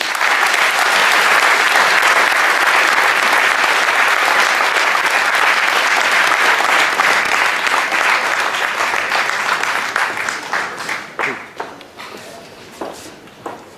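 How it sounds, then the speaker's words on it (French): A crowd at a 2017 tournament event in Paris breaks into loud, dense applause. The clapping holds strong and close for about ten seconds, then thins into scattered claps as it fades out. "je vous demande de faire un tonnerre d'applaudissements à Naïm Bali"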